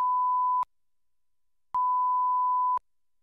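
Mackie Big Knob Passive monitor controller being switched between sources A and B, giving small sharp snaps as a steady test tone cuts on and off, with three clicks spaced about a second apart.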